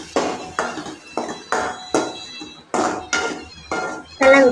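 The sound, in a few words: stirring goat brain fry in a pan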